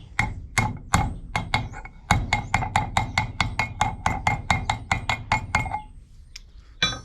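Repeated metallic hammer blows drive a bush into a BSA Star Fire 250 engine, about two dozen sharp, ringing strikes in a fast, steady rhythm, close and loud with no talk.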